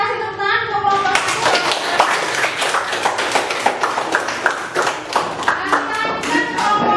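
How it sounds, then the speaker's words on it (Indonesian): Classroom applause for a student group, dense rapid clapping from many hands filling the room for several seconds, with children's voices mixed in underneath. "Kita kasih tepuk tangan untuk kelompok 1"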